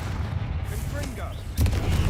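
A Confringo spell blast in Hogwarts Legacy, a booming explosive burst landing near the end over dense combat noise, with a voice heard just before it.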